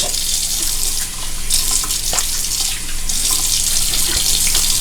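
Water runs steadily from a tap into a sink, splashing as a face is rinsed after shaving under the flow.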